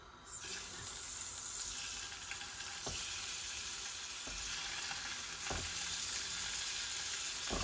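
Chicken eggs fry in oil with a steady, loud broadband sizzle that runs throughout, broken by a few soft clicks of utensils against the pan.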